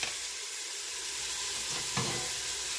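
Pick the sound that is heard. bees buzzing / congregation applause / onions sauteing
onions sauteing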